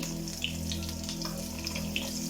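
Garlic, ginger and green chillies sizzle in a hot pan for a Kerala kadamutta roast, a steady, moderately loud frying hiss with small pops over a low, constant hum.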